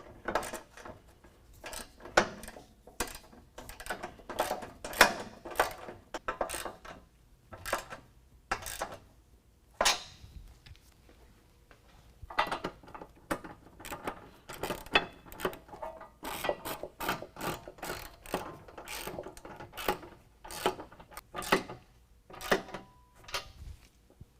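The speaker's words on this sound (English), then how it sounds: "I'm going to go ahead and tighten the board to the brackets. It's going to be a 13 millimeter." A 13 mm ratchet tightens bolts on Iron Cross sidearm step brackets being fitted to a 2019 Ram 1500, giving bursts of quick, crisp clicks with short pauses between them, close and fairly quiet.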